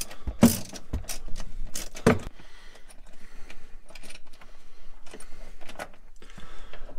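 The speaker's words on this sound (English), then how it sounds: "once you pull that bolt out, then you can pull the whole seat and the seatbelt out" Ratchet turning out a 16 mm seatbelt bolt inside a BMW E36, a few sharp metallic clanks followed by steady close ratcheting clicks, with no talk.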